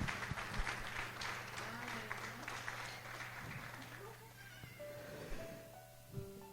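Church congregation clapping in a Spanish-language service, a steady wash of applause with a few voices over it, tapering off near the end.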